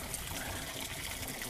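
Water gushes steadily out of a hose at an alpine pasture, a broad, continuous rushing flow heard close by.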